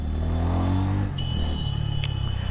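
A Bajaj Pulsar N160 motorcycle being ridden, its engine holding a steady, smooth drone with a slight shift in pitch partway through, close and continuous with wind noise and no talk.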